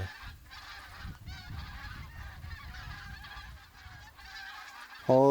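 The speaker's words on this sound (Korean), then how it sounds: "시끄러운 철새들이 분주히 오가는 이곳 수로" Flock of migratory geese honking noisily over a waterway, a steady busy chorus of overlapping calls at moderate distance, with one louder, closer honk at the end.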